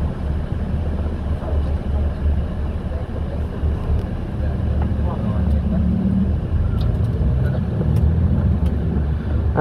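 Street traffic hums through Barcelona's busy city centre, a continuous low rumble of cars passing with the broad wash of a crowded street and some distant clatter, steady throughout.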